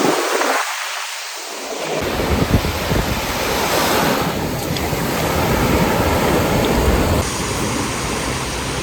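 Ocean waves wash onto a beach at Florianópolis, Brazil, making a loud continuous roar of surf with heavy wind buffeting the microphone and no voices.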